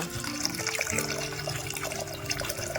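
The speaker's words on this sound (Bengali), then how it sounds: "যতটা ডাল দেওয়া হয়েছিল তার ডবলের কিছুটা বেশি জল আমরা কুকারে দিয়ে দেব" Water streams into a pressure cooker holding dal, salt and a little oil, making a continuous, moderately loud gushing and splashing pour with no voices.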